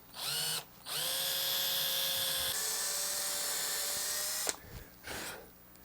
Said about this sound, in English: We need to drill a couple of alignment pin holes down through a couple of the fret slots